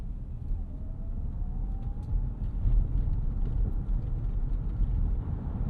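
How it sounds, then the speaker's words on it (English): Cabin of a 2025 Kia Sorento plug-in hybrid three-row SUV driving on a rough city road in cold weather, with a steady low road rumble and faint scattered interior rattles and shakes throughout. "You can hear there are a couple little shimmies and shakes and rattles in this interior"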